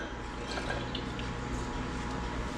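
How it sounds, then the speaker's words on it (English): A cup of milk poured into a whisked egg mixture, a soft, steady liquid trickle with faint splashy drips, close and quiet. "Add in 1 cup of milk,"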